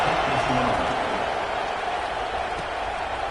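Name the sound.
football stadium crowd buzzing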